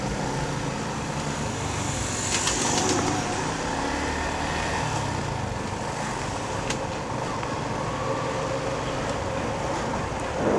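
A 2019 Yamaha Sniper 150 motorcycle rides in third gear during a braking test, its engine giving a steady, fairly loud hum mixed with wind and road noise, without clear changes.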